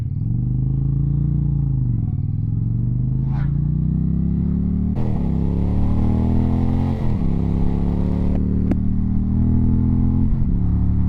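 A 2025 Indian Challenger motorcycle rides along with a loud, close engine drone that rises and falls through gear changes and throttle swells, punctuated by a sharp clack, with steady wind rush and no talking.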